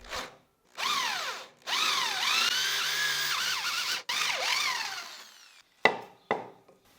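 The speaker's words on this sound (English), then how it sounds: "I'm drilling using the hand drill and a 35 millimeter Forstner bit" A hand drill fitted with a 35 mm Forstner bit bores into secured wood scrap, whining in several loud bursts that bog down and rise in pitch, then short spin-ups at the end.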